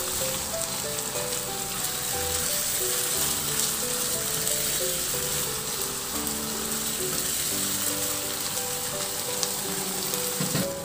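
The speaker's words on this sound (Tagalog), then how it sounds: "Ilagay ko na rin yung pork liempo na hiniwa ko lang din ng maliliit. Ihalo lang hanggang sa mag-iba na ang kulay" Small slices of pork liempo fry and get stirred in a pan, giving a steady close sizzle with faint scraping, no talking, and a low hum running beneath throughout.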